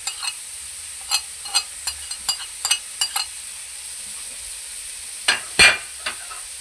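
Chicken liver frying in a pan as spices are stirred in, steady soft sizzle under a series of short scraping stirs, with a louder clatter near the end; no voices.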